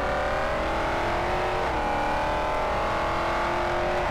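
Drift cars race in a Virtual Formula Drift round set on the Streets of Long Beach, with a Mustang leading. The engines whine and rev loudly and continuously, and the pitch shifts through gear changes without any voices.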